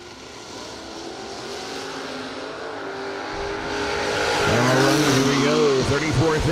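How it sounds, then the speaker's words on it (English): Drag racing cars, one a Corvette Roadster, launch down the strip: engine drone builds into loud revving with sweeping pitch changes and doppler passes near the end. "The Corvette Roadster be going up against Vinnie Martin"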